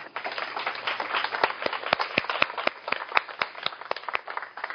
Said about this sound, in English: Let's give her a nice clap.